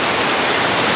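Heavy rain pours down steadily outside a house, producing a dense, even hiss that fills the short moment without any break.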